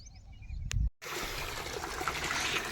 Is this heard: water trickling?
yes